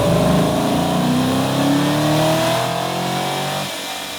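A car engine fitted with an aftermarket intake revs up on a dyno, a loud rising roar climbing steadily in pitch for several seconds before backing off near the end.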